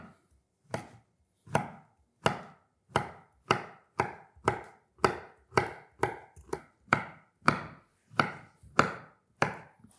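Knife cutting through a log of raspberry sablé biscuit dough on a cutting board, about fifteen crisp, evenly spaced chops in a steady rhythm, close and clear, with no talking.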